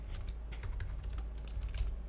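Quick, close clicking of keys on a computer keyboard, a rapid irregular run of taps against steady low background hum, with no voices.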